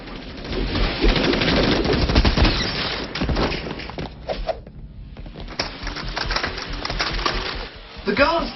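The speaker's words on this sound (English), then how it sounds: "he can quickly shoot them in rapid succession" Rapid gunfire from an action scene in the film Equilibrium, dense bursts of automatic shots and clatter at high volume with a brief lull midway, mixed with film soundtrack and a voice.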